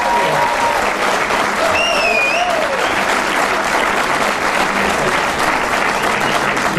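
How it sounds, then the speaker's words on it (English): An audience at a pool trick-shot show breaks into loud, sustained applause for several seconds, dense clapping from a crowd with a few faint whistles above it. "Applause for this little girl here"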